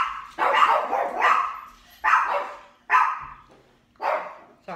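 Dogs barking indoors, loud and close, in five or six separate bursts of excited barks with short pauses between them.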